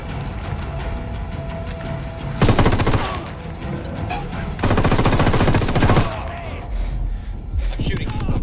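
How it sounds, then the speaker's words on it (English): Rapid automatic gunfire in the tactical shooter Ghost Recon Wildlands, dense bursts of rattling shots in several loud stretches over continuous game noise, with voices talking throughout. "I'm shooting these fuckers."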